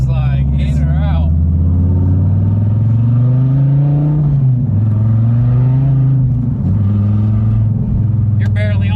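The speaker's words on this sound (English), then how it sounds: "Man, this thing is a freaking race car." A 2014 Dodge Viper TA, rebuilt after being wrecked, revs loudly close up, its deep engine note climbing and falling in long sweeps while people speak briefly at the start and end.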